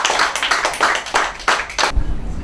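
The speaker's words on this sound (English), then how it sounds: "Big round of applause," A graduation ceremony audience claps for a graduate's exam results, a few loud, close bursts of clapping that stop abruptly near the end.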